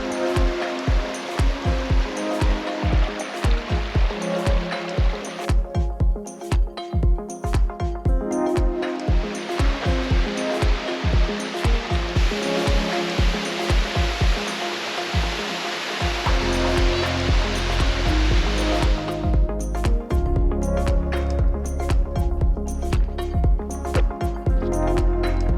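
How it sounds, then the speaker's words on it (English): Rushing water from waterfalls on Minnesota's North Shore, a steady broad roar that stays loud throughout, with some stretches choppy and broken up and a sudden surge to a fuller, closer wash near the end. "As you can see, there's a lot of waterfalls here, a lot of cool places."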